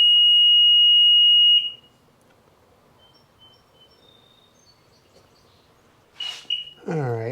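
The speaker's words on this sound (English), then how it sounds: "That long beep afterwards must mean because there's a code." A Sea-Doo personal watercraft gives a long steady electronic beep after its key tether is reprogrammed, then goes quiet before a short chirp and some nearby movement at the end.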